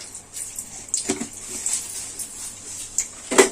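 Half a spoon of fenugreek seeds sizzles in hot oil, giving a soft, steady hiss with a few sharp, sparse pops and crackles close by.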